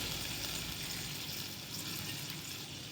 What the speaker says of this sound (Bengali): জলটা দিচ্ছে, ওই মশলা ধোয়া বাটিটারই জলটা দিচ্ছে।